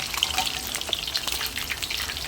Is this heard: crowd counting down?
no